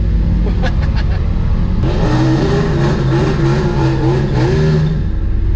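A turbocharged Harley motorcycle engine revs loudly at a drag race, a sustained, wavering growl that climbs and holds under steady crowd and track noise, close and dominant throughout.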